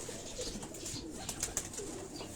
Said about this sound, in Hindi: ये उड़ने वाले कबूतर नहीं है, ये सब जो हैं ये उनके ब्रीडर जोड़े जो हैं